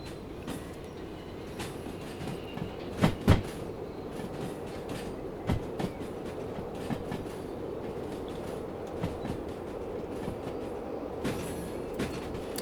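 Simulated train in the railway game Derail Valley pushing freight wagons into a siding: a steady low rolling rumble with occasional sharp clanks and knocks from couplings and wheels, moderately loud throughout.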